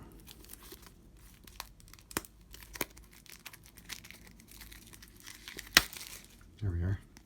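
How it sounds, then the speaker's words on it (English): Shrink wrap on a trading card packet being cut and pulled open with a knife, faint crinkling and scattered sharp crackles, a louder rip near the end, with talk over it. "Watching somebody try to open one of these packets with a knife."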